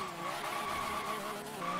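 Sustained tire squeal from a car drifting in Forza Horizon 3, a continuous screeching whine over engine noise, fairly quiet and brief.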